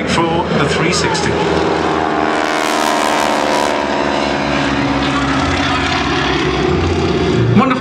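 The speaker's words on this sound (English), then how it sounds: "Wonderful sound from those engines and propellers. There are 985 Pratt & Whitney Wasp radials, outstanding engines" Pratt & Whitney Wasp 985 radial aircraft engines and propellers roar during a formation aerobatic display at the East Fortune Airshow, a loud, steady, throbbing drone with muffled talk faintly beneath it.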